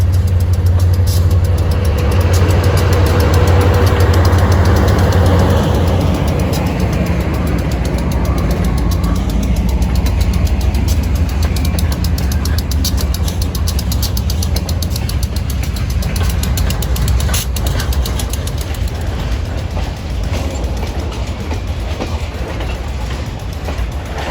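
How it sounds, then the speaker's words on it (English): A B23-7 diesel locomotive switching in the Geneva yard of the Finger Lakes Railway, with a steady loud engine drone and rolling rail noise throughout, a low idle tone fading after the first few seconds. "Here's the Geneva yard job switching with a B23-7."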